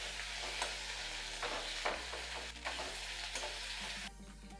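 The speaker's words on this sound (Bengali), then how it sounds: "আদা টমেটো পেঁয়াজের সাথে ভালোভাবে মিশিয়ে নেব" Ginger paste and tomato stirred into fried onion in a pan, making a close, quiet sizzle broken by repeated scraping strokes of a spoon over a low steady hum; no one speaks.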